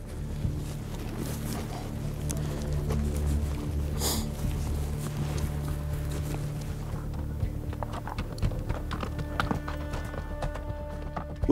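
Horses walking on a Wyoming high-country mule deer hunt, hooves clip-clopping in a steady uneven rhythm close by, with occasional snorts and tack noise over a constant outdoor background.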